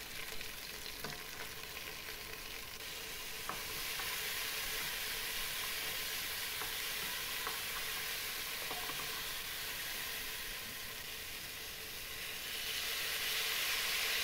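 Steady sizzling of vegetables and peas frying in a pan for pav bhaji, a continuous bright hiss with occasional small crackles and stirring clicks, close and fairly loud.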